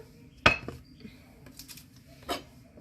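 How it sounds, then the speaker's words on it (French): Ingredients for zlabia being mixed in a pot, a few sharp metallic clinks of a utensil against the pot with softer scraping between, close and sparse, with a faint voice in the background. "Alors, on mélange."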